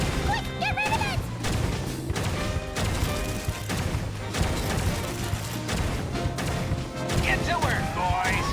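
A bomb goes off in Genshin Impact amid repeated crashing, booming impacts and bursts of combat noise, loud and close, with game voices and music mixed underneath.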